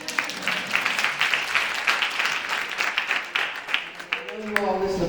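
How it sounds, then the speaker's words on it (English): Audience clapping at a panel discussion event, dense continuous applause from a crowd, with a voice starting to speak near the end. "Yes, you can clap."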